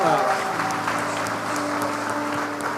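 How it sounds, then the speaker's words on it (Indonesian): A church congregation claps steadily and loudly for a few seconds, continuous applause without pause. "Tepuk tangan lagi dong."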